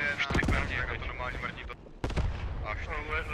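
Loud booming cannon blasts from the game Post Scriptum, one near the start and another around two seconds, with rumbling battle noise and voices in between.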